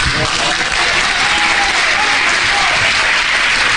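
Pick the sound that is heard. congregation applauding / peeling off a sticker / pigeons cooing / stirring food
congregation applauding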